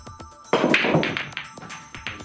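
Billiard balls scatter on a pool table from a hard break shot, a sharp crack followed by a cluster of clacks and knocks as balls collide and drop, fairly close.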